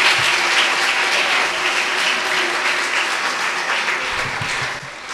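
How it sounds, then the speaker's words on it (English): Audience applause for Teacher Edith Dubry at the Lookout Primary School end-of-year ceremony, a steady, dense round of clapping that holds evenly throughout and tapers slightly at the close. "Let's give her a round of applause."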